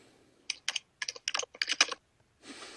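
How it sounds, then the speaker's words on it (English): Rapid clicks of typing on a computer keyboard in short irregular bursts, close and fairly crisp, then a brief soft rustle. "Yeah, I hear you typing."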